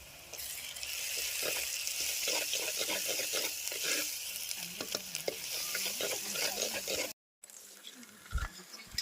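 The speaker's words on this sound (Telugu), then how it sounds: "కలుపుకొని అల్లం వెల్లిపాయ వాసన పోయినాక" Onions with ginger and garlic fry in oil, a close, continuous sizzle broken by repeated scraping stir strokes, then a brief cut to silence and a few bumps near the end.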